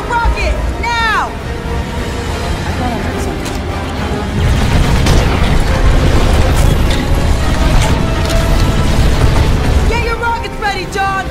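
Film battle scene against a Hunter-Killer machine: heavy rumbling and booming blasts under a dense, loud action soundtrack, with shouting voices and sweeping whooshes throughout.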